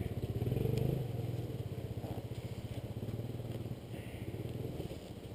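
A Kawasaki KLR dual-sport motorcycle rides off-road through a forest trail, its single-cylinder engine putting out a steady low chugging thrum with clattering over rough ground, fairly close and without talk.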